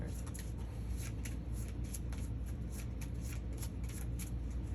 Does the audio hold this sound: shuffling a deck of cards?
yes